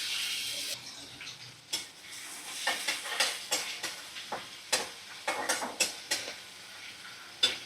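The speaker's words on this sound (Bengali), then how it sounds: "তো একটু আমি পেঁয়াজ ভেজে নেব।" Onions frying in plenty of white oil in a pan while making egg biryani, a steady sizzle with a run of sharper crackles and stirring clatters, close and fairly loud, with no talking.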